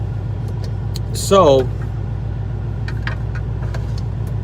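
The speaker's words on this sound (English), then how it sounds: "sorry guys, I'm backing the car in here." Procharger-supercharged car engine idling as it backs into a garage: a low, steady rumble close by, with a brief spoken word over it.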